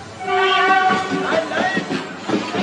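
A train rumbles along the rails close by, with a drawn-out horn-like tone early on over the steady rolling clatter.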